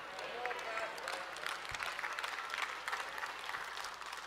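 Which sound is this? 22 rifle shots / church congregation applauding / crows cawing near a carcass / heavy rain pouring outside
church congregation applauding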